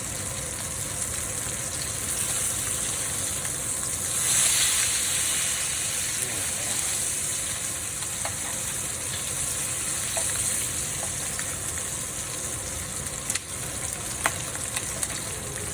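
Smoked porterhouse T-bone steak sears on a hot surface with a steady, even sizzle and crackle lasting throughout, fairly close and alone with no talking, a brief swell in intensity early on and a few sharp pops later.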